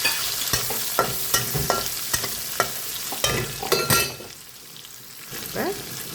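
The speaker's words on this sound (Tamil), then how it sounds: "வெங்காயம் போடுறோம்" Chopped onions sizzle in hot oil in a pan for chicken angara, with sharp repeated clacks and scrapes of a spoon stirring at an irregular rhythm over a steady frying hiss, close and fairly loud.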